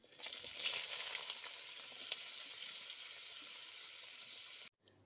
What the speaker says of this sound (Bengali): এখন আমি যে বেগুনগুলো ধুয়ে রেখেছিলাম এই তেলের উপর আমি নিয়ে নিলাম